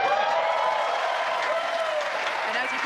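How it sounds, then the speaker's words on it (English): A crowd claps and cheers continuously after a SpaceX Falcon 9 booster lands on a drone ship, a dense, sustained wash of applause with whoops and voices mixed in. "you can hear by the clapping and cheering behind me, Falcon 9 has landed on our drone ship"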